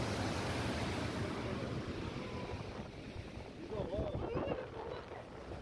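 Water overflowing from a dam and rushing away downstream toward the sea, a steady broad roar of flow heard outdoors with some wind buffeting, while a voice talks over it.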